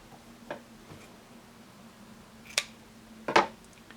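Scissors cutting a strip of lace to size for a detachable cuff, a few faint isolated snips spread over the quiet moments, the last couple of snips louder and close together.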